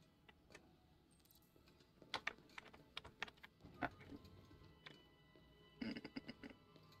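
Computer keyboard keys pressed during play of Detroit Become Human, scattered sharp clicks in irregular clusters, quiet and close, with a faint background hum.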